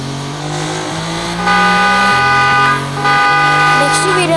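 A car in a driving video game hums along steadily, and its engine tone steps up as it accelerates partway through. The sound is loud and close, with a horn-like tonal whine.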